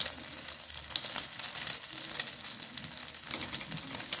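Egg-dipped shami kababs fry in a pan, making a soft, steady sizzle and crackle with light bubbling, close by and fairly quiet, with no other sounds over it.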